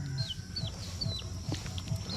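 A mother hen clucks low and steady at close range while her chicks peep in thin, high cheeps repeated over a constant farmyard hum.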